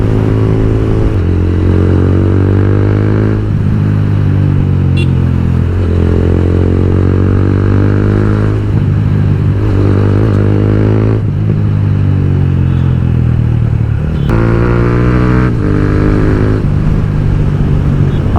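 A modified TVS Apache RTR 200 motorcycle rides along a highway, its engine droning steadily and loudly close to the mic throughout, with repeated rises and falls in pitch as the rider shifts through gears and throttles up.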